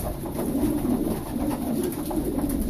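Racing pigeons in a sport loft keep up a low, continuous cooing, several birds murmuring together close by for a couple of seconds without any voices.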